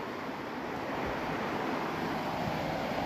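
A fast, strong river current runs on a farm during heavy rain, a steady broadband rush of water heard moderately loud and continuous with no talking.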